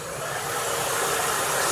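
A hair dryer running on its low setting blows a steady, even airy whoosh close by, broad and constant without a break, while chalk paint is being dried on a craft piece. No one speaks.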